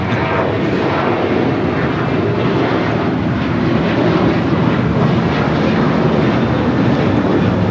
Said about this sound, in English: This is American Airlines 1663 taking off to Nashville on the 737-800